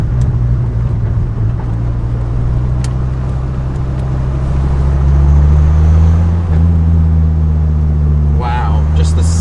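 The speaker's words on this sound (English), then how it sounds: "You can hear the air rushing into the motor." A 1994 Dodge Viper engine drones steadily while driving, a deep, loud exhaust note with intake air rushing, rising slightly in pitch midway as it accelerates, with someone talking briefly over it.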